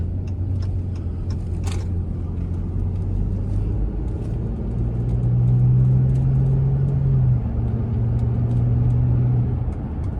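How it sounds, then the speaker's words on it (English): Chrysler 300 with a V6 engine on an expressway, a steady low growl from the cabin that swells as the car accelerates, with faint clicks and road rumble beneath. "y'all hear that motherfucking V6 trying to growl and shit?"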